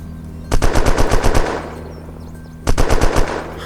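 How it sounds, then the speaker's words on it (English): Two loud, close bursts of rapid automatic gunfire in the video game Unturned, aimed at an aircraft flying overhead, each burst about a second long of even, fast shots with a pause between them. "I took some shots at it."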